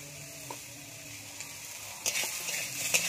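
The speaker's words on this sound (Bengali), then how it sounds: "বেগুনটা ভালো করে ভেজে নিতে হবে" Eggplant fries in oil with a soft, steady sizzle, broken by a few sharp clinks and scraping stirs that grow louder and closer toward the end.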